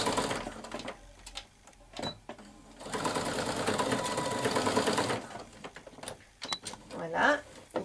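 Sewing machine running in several bursts as it sews a holding stitch on a retro school-style dress, with a long steady run in the middle and shorter starts and stops around it, close and moderately loud.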